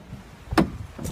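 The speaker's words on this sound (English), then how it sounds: "Suicide doors." Rear-hinged suicide doors on a Nissan Navara D40 pickup open with a single sharp clunk of the latch, followed a moment later by a softer second click, close and with no talk.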